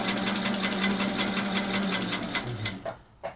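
Free-motion quilting on a sewing machine stitching a petal shape: a steady, rapid mechanical needle chatter running close and continuous, then slowing and stopping near the end.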